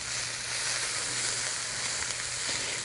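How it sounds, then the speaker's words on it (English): Smashed garlic sizzling in hot oil for steak Diane, a steady, dense frying hiss that stays even and close throughout with no talking. "I'm going to take some smashed garlic. I'm just going to cook this until it's translucent."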